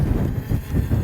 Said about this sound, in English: It's so windy out there.